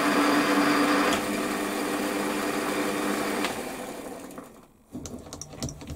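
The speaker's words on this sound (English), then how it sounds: "I'm going to face this side back because this material is way too thick" A Warco WM180 metal lathe facing the end of a part clipped in its chuck, a steady whining motor hum with faint cutting scrape, easing off and dropping away toward the end.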